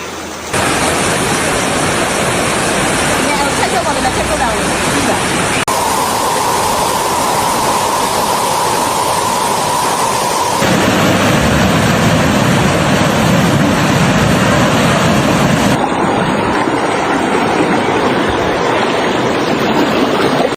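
Floodwaters in Uttaradit, Thailand surge loudly and continuously, a dense broadband roar of rushing water with no breaks, shifting in tone between sections.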